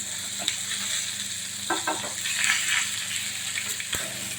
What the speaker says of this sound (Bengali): ভেজে নিয়েছি এদিক ওদিক